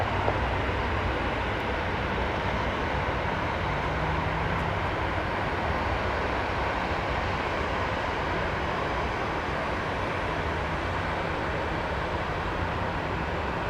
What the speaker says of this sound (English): We're going to take off from Charlie 2